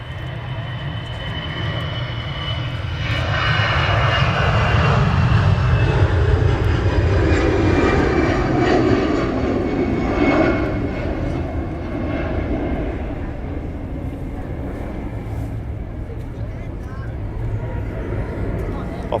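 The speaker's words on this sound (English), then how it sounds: "Off it goes the EasyJet." An EasyJet airliner takes off at Manchester Airport, its engine roar swelling to a steady, moderately distant rumble that holds and slowly eases, with people talking over it.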